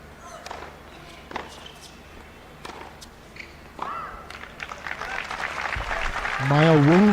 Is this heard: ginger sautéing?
no